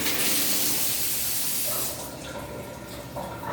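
Tap water runs steadily from a shower in a renovated apartment bathroom, a dense hiss that is loud at first, then eases to a lower, steadier rush after a couple of seconds, with no talking.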